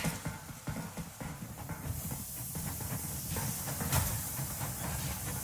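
In the video game Metro Exodus, a steam train sets off, with a broad steady hiss building under clattering, rhythmic mechanical knocks, loud and close with no talk.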